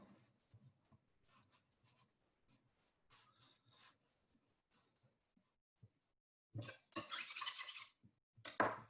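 A scraper rasps across a work surface to clear excess strawberry doughnut dough, in soft scattered strokes that end in a louder, denser burst of scraping close up.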